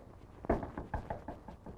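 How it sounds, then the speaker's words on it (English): Knocking on a door in a 1937 crime film, a series of about seven dull raps in an uneven rhythm, moderately close but quiet, alone with no talk. "Who's knocking at the door?"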